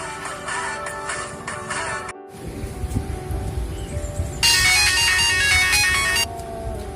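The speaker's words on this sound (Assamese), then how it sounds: "কামৰ মানুহ কোনে ফোন মাৰি থাকে?" A mobile phone ringtone plays in bursts of bright melodic tones that stop briefly and then start again louder, and a low rustling rumble runs underneath.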